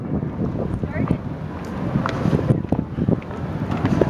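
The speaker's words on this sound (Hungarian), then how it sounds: "A hangért előre is elnézést kérünk, de fúj a szél." Gusty wind buffets the microphone with rumbling, uneven bursts throughout, while muffled voices talk underneath.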